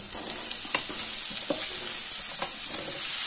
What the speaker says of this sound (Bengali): আলুর সঙ্গে কুমড়োটাকেও দুই মিনিট ভেজে নেব